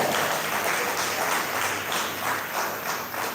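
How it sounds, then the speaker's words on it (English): An audience at a World Rivers Day commemoration in Ghana gives a steady round of applause, a dense, even wash of many hands clapping at moderate volume throughout. "A bigger round of applause for her, please."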